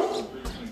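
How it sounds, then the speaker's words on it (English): Doberman and Rottweiler guard dogs give a couple of short barks, one near the start and one midway, fairly close over a quiet background. "Now, these are guard dogs. And they're letting me know that there is somebody behind my wall."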